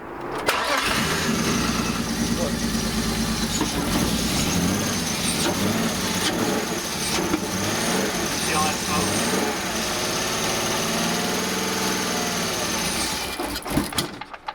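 A BMW E46 engine cranks and catches, then runs roughly, struggling to hold an idle as if about to stall, loud and close throughout with people talking over it.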